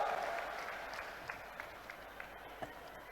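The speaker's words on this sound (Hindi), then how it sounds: "दोनों हाथ ऊपर उठा के जोरदार तालियों के साथ प्रधानमंत्री जी को हम शुभकामनाएं दें।" Faint, distant crowd applause for the prime minister at a public event in Sheopur, a steady wash of clapping with a few sharper claps standing out, fading slightly over a few seconds.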